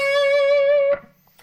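A single sustained, bent electric guitar note from the first lick of the outro solo, held steady and clear for almost a second before cutting off abruptly into quiet.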